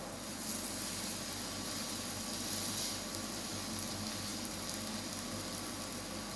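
Steady, dense sizzling of ramen toppings frying in a pan, a continuous crackling hiss with a low hum underneath, no voices.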